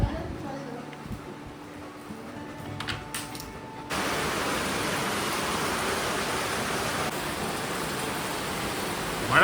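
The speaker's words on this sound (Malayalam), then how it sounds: "മഴ വന്നോടി, മഴ." Rain pours down in a sudden, steady downpour, its broad loud hiss starting abruptly partway through and continuing without a break after a quieter opening.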